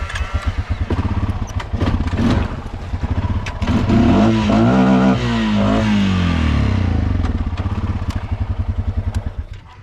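A Honda Rubicon 520 ATV engine with a Copper 90 mod idles with a loud, close, pulsing thump, rising in a rev midway before settling back to its rhythmic chug.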